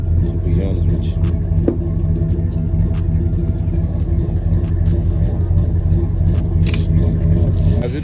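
A Chevy car engine idles steadily after a battery charge, a loud low rumble holding even throughout with small clicks and ticks over it.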